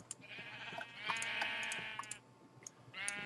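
Sheep in a survival and map-making video game bleat in a couple of drawn-out, wavering calls, fairly close and alone, with a few faint clicks between them.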